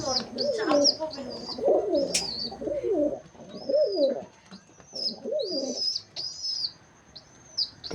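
Big pigeons coo nearby in repeated rolling, throaty phrases, mixed with a few sharp higher chirps and brief pauses between calls.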